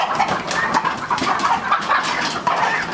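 Two roosters on a rural farm in northern Shaanxi cluck and squawk close by in dense, rapid bursts as they are caught, the calls overlapping continuously with rustling throughout.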